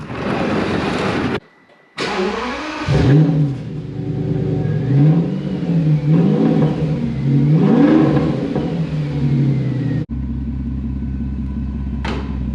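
A car engine revving hard close by in repeated rising and falling surges over a deep rumble, briefly cutting out twice before settling into a steady idle.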